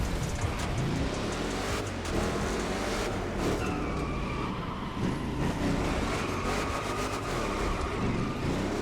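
Deep, rumbling engine note from a Honda fitted with a swapped V8 in the racing game The Crew Motorfest, a continuous loud drone that holds steady throughout with no speech.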